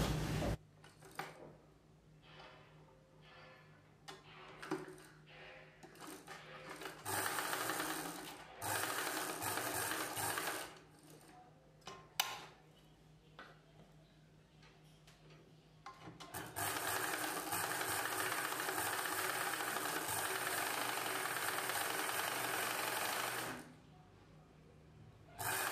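A sewing machine stitches the edge of a collar-neck blouse up to a buckram piece, starting with faint intermittent mechanical ratcheting and clicks, then breaking into longer, louder steady runs of stitching near the end.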